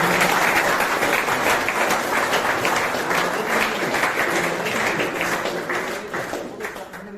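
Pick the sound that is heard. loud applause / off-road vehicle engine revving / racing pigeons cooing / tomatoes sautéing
loud applause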